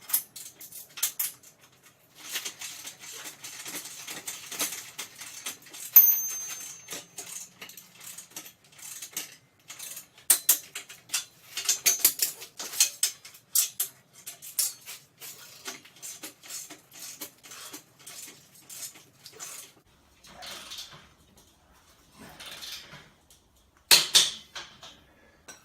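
A wrench tightens trailer bolts on a DIY off-road trailer build, giving sparse metallic clicks and ratcheting ticks in irregular bursts, faint and close, with pauses between pulls and a sharper clink near the end.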